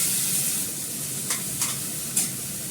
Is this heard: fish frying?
yes